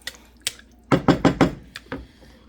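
Spoon stirring plant milk and water into a pasta mix in a pot, a few close wet clacks and sloshes, four quick strokes in a row, then a couple of softer knocks.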